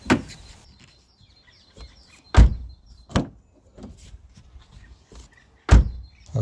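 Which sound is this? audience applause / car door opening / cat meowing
car door opening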